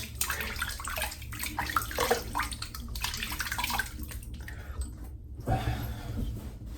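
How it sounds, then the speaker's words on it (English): Running water splashes steadily while rinsing off after a head shave with a Gillette Tech razor, a close, continuous wash that thins out and pauses briefly before resuming. "I'm just going to rinse off now."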